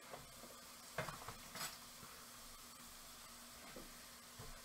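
Roughly chopped onion hits a hot pan for a bean-free keto chili, giving a soft steady sizzle with a few clinks of a utensil stirring, close and moderately quiet, no voices.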